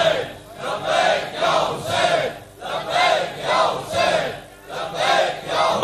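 A large congregation at a Shia religious sermon loudly chanting salawat in unison, a rhythmic wave of massed voices rising and falling in about six repeated phrases, filling the space.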